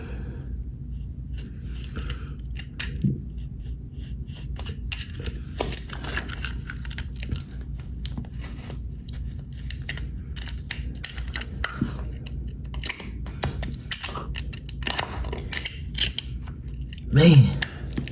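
A blade slicing out old, moldy silicone caulk along a shower corner gives irregular scratchy scraping and clicking, steady and close over a quiet room, with a brief louder scrape near the end.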